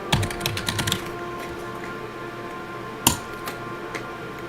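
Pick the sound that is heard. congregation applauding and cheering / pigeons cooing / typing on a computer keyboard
typing on a computer keyboard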